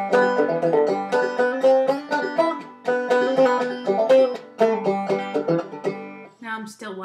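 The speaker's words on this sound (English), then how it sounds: "Now that same piece without thumb whacking would sound like this." Clawhammer banjo tune played with little thumb whacking, bright ringing plucked notes in a steady rolling rhythm, close and unaccompanied, softer in attack, fading into a few loose final notes.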